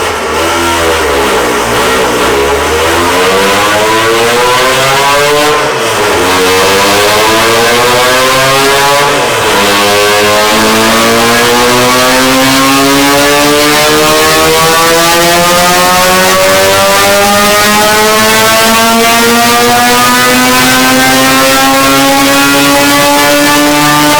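An ITB-equipped Mazda RX-7 rotary engine on a dyno gives a loud, close rising wail to 9000 RPM after a few short blips, its pitch climbing steadily for a long sustained scream.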